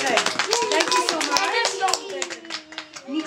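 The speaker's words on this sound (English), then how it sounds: "Give him a clap, please" An audience claps for a child, with lively, close applause of many hands lasting several seconds. An adult voice speaks over the clapping.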